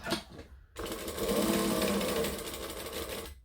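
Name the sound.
sewing machine stitching fabric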